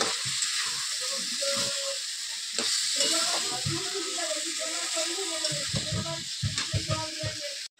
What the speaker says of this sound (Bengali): তো এই যে মশলা দিয়ে এবার ভালো করে কষিয়ে নেব।